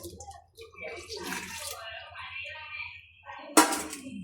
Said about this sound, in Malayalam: നമുക്ക് കുറച്ച് പാലും കൂടെ ഇതിനകത്തോട്ട് ഒഴിക്കാം.